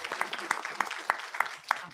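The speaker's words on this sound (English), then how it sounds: "Let's give them another round of applause." A community audience in Utica claps in scattered, uneven bursts, moderately near and fairly faint, with sharper individual claps standing out.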